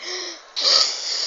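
A video game character snorts through a blocked nose, a harsh, loud, wheezy breath that is briefly drawn and then forced out in a sharp burst, with no talk over it.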